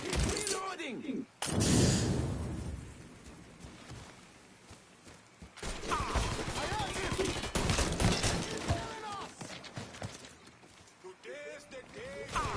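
Gunfire in the Mafia 3 shootout: repeated sharp shots and bursts across a long stretch, loud and close, with glass shattering, footsteps and voices shouting over the fighting.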